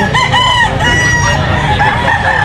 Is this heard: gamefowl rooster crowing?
yes